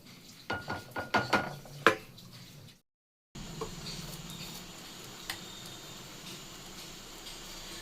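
A spoon stirring a homemade jaggery mixture, with bits of sugarcane fibre, in a bowl: a run of close, quick clinks and scrapes, a brief silence, then a faint, soft background hiss with an occasional light tap.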